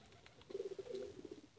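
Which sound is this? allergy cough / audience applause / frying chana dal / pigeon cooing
pigeon cooing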